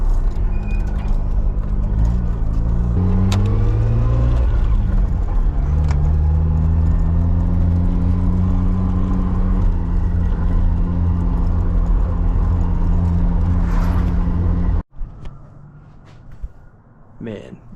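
Mazda RX-7 on new tires with new power steering, driving steadily, its engine hum rising and shifting through gears, loud and close from inside the cabin; the drone cuts off abruptly near the end, leaving quieter road noise.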